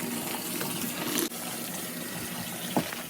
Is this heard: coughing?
no